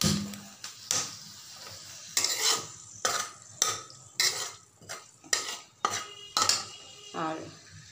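Spices with mace tempering in hot oil in a pan, stirred with a utensil: repeated sharp scraping and clinking strokes at an uneven rhythm over a soft background sizzle, close and fairly clear, with no talking.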